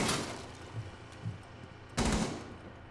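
Gunfire from the video game Rainbow Six Siege comes as two muffled bursts, one at the start and a louder one about two seconds in, with faint thuds between them and no talking.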